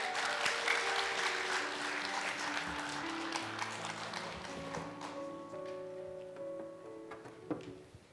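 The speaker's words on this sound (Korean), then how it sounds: "우리 박수로 환영하겠습니다." Audience applause at a Korean church Friday prayer meeting, welcoming a speaker to the front; steady, dense clapping fills the whole stretch under sustained organ or keyboard tones, with a few sharper claps near the end.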